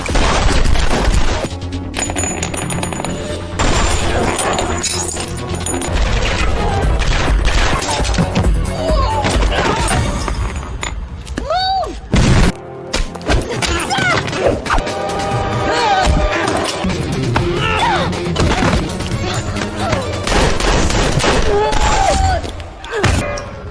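Gunfire in a film battle scene, with sharp shots, crashes and impacts scattered through loud dramatic music, and voices speaking at intervals.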